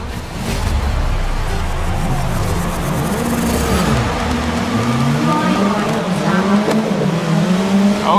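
Race cars in the video game Grid 2019 roar off the start in a night race, a dense pack of engines revving and shifting with sweeping pitch rises, loud and close, while a commentator-style voice talks over the noise.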